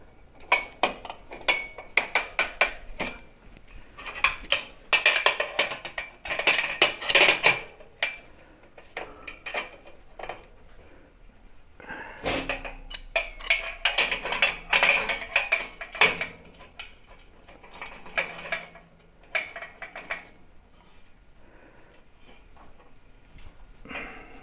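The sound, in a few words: metal clamps being put on and tightened on tractor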